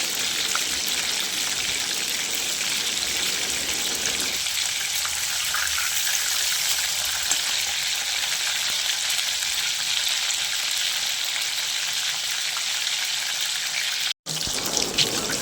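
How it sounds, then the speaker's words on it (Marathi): Bombay duck fish pakoras deep-frying in hot oil on a slow flame, a dense, loud, continuous bubbling hiss that holds steady and close for the whole stretch, with one abrupt brief dropout near the end and no voices. "ज्यावेळेस आवाज बंद होतो त्यावेळेस समजून घ्यायचं की बोंबील आपले क्रिस्पी असे फ्राय झाले आहेत"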